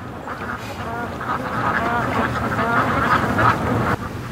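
Several ducks quack at a lake, a run of nasal calls over a steady outdoor background, fairly close and continuous.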